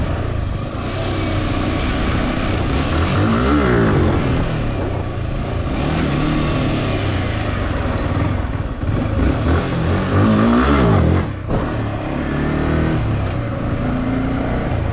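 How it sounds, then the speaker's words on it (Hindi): A Hero Splendor motorcycle revs hard during wheelie practice, its engine roaring loud and continuous for fifteen seconds with rising and falling surges of throttle, close by and with no talk over it. "थोड़ा सा व्हीली प्रैक्टिस कर रहे थे"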